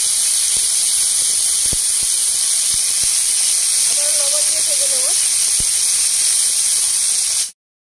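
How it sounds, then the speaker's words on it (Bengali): Green beans and green chillies frying in a pan give a loud, steady hiss that holds throughout, with a few faint clicks, a brief murmur of voice in the middle and an abrupt cutoff at the end. "এবার বিনসগুলো ভেজে নেব।"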